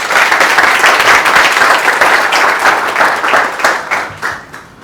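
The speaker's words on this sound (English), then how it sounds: "So please a warm round of applause to Ricardo" An audience at a company engineering talk breaks into loud, dense applause for a speaker. The clapping holds steady, then thins and fades toward the end.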